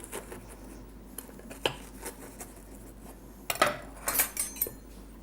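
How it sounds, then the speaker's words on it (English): A sharp knife scrapes and clinks against a dish while cutting around the pastry edge of a venison pie, giving scattered light taps and scratches at close range with no talking. "With a sharp knife, just go round the edge of the lip"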